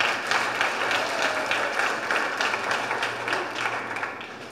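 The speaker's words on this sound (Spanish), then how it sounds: "Dale un aplauso al Señor si estás aquí." A church congregation applauds, dense steady clapping filling the whole stretch at fairly loud level, no talk over it.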